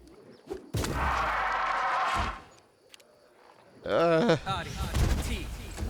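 Bomb blasts burst out in a Pathfinder: Kingmaker fantasy battle: a long loud roar of explosion and noise, then a quieter gap, then a second sharp blast with a wavering, voice-like cry over it.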